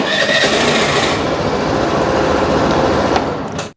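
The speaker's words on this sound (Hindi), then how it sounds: "तो चलिए एक बार स्कूटर स्टार्ट करते हैं" A 125cc sporty scooter's engine, started from the right-handlebar start/stop switch without a silent-start system, runs with a loud, close, steady buzzing drone before cutting off abruptly at the end.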